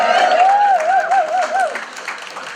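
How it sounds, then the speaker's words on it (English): Audience applause at a live awards event: a steady wash of clapping fills the room, with a wavering high whistle-like tone riding over it before it thins out near the end. "please hold your applause until the end"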